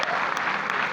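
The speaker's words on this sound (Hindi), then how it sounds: "एक बार ताली बजा दो अपने लिए।" Brief burst of audience applause at a comedy show, steady and moderately loud for about a second with no speech over it.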